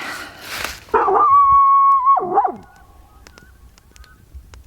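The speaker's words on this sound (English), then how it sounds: "barking at everything." A dog gives a sharp yip followed by a long, high whining howl that wavers and breaks off, close by near a campfire in the woods, then quiet with faint clicks.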